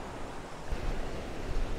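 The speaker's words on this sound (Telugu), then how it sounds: "ఇదంతా సముద్రము" Sea waves wash at the Udupi river delta point where a river meets the sea near Malpe beach, a steady rushing surf mixed with wind noise and no voices.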